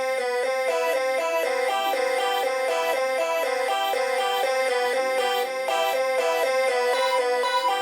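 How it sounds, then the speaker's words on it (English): An electronic synth melody on a vocal-type Vox preset, bright, steady repeating notes in a quick even rhythm, played alone without talk at moderate level. "I'm going to start by copy and pasting the synth melody that we made and switching it out to a Vox preset that's going to sound like this."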